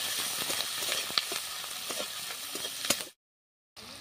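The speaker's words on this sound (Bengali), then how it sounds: "পেঁয়াজটা হালকাভাবে আমি ভাজলাম, একটু কাঁচা কাঁচা আছে।" Finely chopped onion fries in hot oil with whole spices, a close steady hiss broken by a few spoon scrapes as it is stirred, then it cuts to brief silence before the sizzle resumes.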